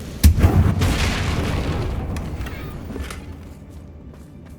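A Confringo explosive spell blasts in Hogwarts Legacy, a single sharp boom up front followed by a rumbling decay that fades over several seconds, with no talk over it.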